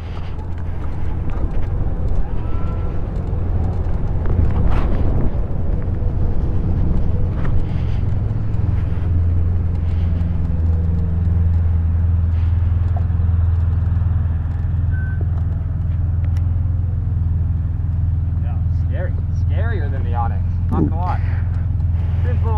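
A Sur Ron electric dirt bike is ridden outdoors, its motor a steady drone with wind buffeting the microphone for about twenty seconds, while voices come in intermittently.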